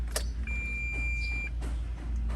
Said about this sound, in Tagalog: Then i-on na natin yung sasakyan natin.